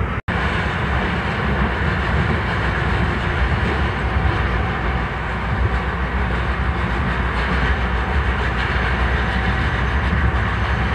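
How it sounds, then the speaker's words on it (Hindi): Passenger train 14801 Jodhpur–Indore running at about 130 km/h through the Aravalli hills alongside a freight train: a loud, continuous rumble and rushing roar with faint rhythmic clatter, steady throughout after a brief click at the start. "अब मालगाड़ी की स्पीड और अपनी ट्रेन की स्पीड मैच हो रही है। अब अपनी ट्रेन और तेज चलेगी"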